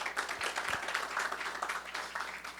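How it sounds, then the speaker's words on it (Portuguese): A gathering of a Brazilian leadership workshop and networking meeting breaks into brief applause, fairly quiet and a little distant, with a few sharper individual claps standing out. "Salva de palmas por Walter,"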